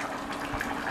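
Tamarind water being poured into a simmering chickpea and eggplant curry, a short steady liquid splash and trickle heard alone without talk.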